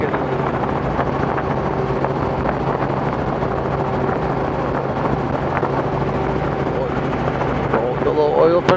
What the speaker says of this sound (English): If you notice, the helicopter is shaking a little bit more now than it was.